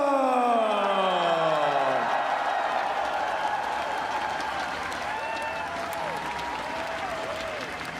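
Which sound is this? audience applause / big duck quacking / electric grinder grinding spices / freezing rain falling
audience applause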